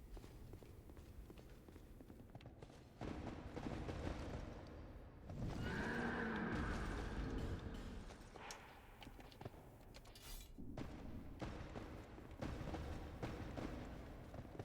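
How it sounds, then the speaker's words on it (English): The Executioner Chariot horse in the Dark Souls 2 game gives a loud, harsh neigh amid heavy hoof clatter and rumbling, with bursts of clashing game noise before and after. "Oh, that's the Executioner Chariot horse."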